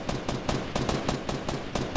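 Rapid automatic gunfire in the Fortnite video game rattles in quick, evenly spaced bursts. It stays loud and continuous, with no talking over it.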